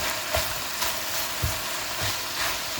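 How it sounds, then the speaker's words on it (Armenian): Minced meat for a crepe filling fries in a pan after its juices have cooked off, making a continuous close sizzle with a few soft stirring scrapes and bumps. "Ձայնից էլ է երևում, որ մսի ջուրը արդեն գոլորշացել է և միսը սկսել է տապակվել"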